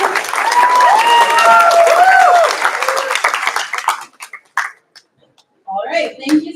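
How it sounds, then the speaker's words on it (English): Loud sustained applause from an audience at a hackathon kickoff ceremony, with cheers and whoops over the clapping before it tapers off and a voice speaks. "Let's give a round of applause."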